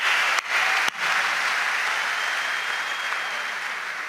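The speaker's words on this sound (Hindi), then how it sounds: "एक बार तालियां बजाइए" Audience applause at a kavi sammelan, a loud, dense wash of clapping from a large crowd that runs steadily throughout with two brief dips early on.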